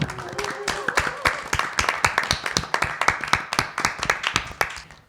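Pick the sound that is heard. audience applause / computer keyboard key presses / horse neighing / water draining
audience applause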